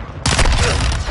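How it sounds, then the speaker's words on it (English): A flash grenade goes off in a multiplayer shooter hardpoint match, a sudden loud broadband blast that cuts in sharply and rings on as a sustained bright roar to the end. "Throwing flash grenade"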